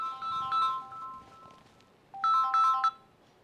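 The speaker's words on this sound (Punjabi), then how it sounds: "ਮੈਨੂੰ ਲੱਗਦਾ ਵਿਚੋਲਣ ਦਾ ਫੋਨ ਆਈ ਜਾਂਦਾ" A mobile phone ringtone signals an incoming call, playing a bright electronic melody in two separate bursts with a short gap between them, clear and alone.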